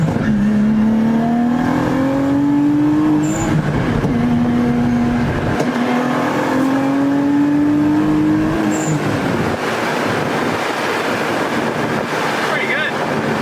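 Motor-swapped Nissan 370Z engine revving up through the gears, a loud rising drone that climbs steadily, drops at each shift and climbs again, with wind and road roar throughout and voices talking inside the car.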